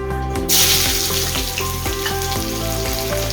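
Finely chopped onions dropped into hot oil burst into a loud sizzle, then keep frying with a steady crackling hiss and occasional stirring scrapes, no talk.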